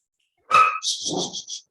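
A dog gives a short, sharp bark followed by a high, thin whimper, close and clear in an otherwise silent room.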